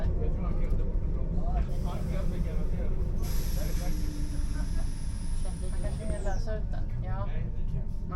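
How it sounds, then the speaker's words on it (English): A Stockholm-area passenger train brakes hard while overrunning the platform at Vingåker, a loud steady rumble with a long high squeal rising over it and hissing brake noise, while someone talks throughout. "You can even hear the driver applying even more brakes."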